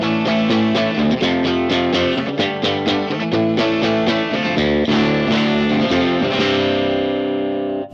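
A heavily distorted electric guitar with punchy pickups, played through a Titan amp, plays chugging chords and riffs, loud and fuzzy, ending on a sustained ringing chord.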